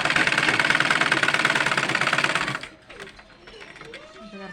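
A sewing machine stitching the side seams of a top runs in a fast, steady mechanical rattle for about two and a half seconds, then stops, followed by faint handling noises.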